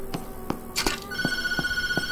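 A telephone rings in short, evenly spaced electronic bursts, close and clear, with a brief clatter partway through and a steady tone underneath, without any talking.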